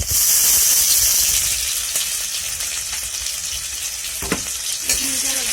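Duck meat frying in a pan with onion, chili and ginger-garlic paste, a loud steady sizzle that eases slightly, with a few clinks of a stirring utensil near the end.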